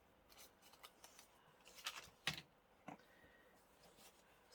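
Scissors snip paper while a pocket for a junk journal is trimmed, giving a few quiet, scattered cuts with a couple of sharper clicks close by, no voice present.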